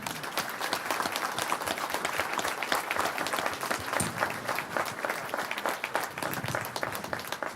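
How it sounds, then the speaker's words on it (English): Indoor audience at a college commencement senior brunch forum applauding steadily, a dense wash of many hands clapping at even loudness from start to finish with no break. "So please applaud"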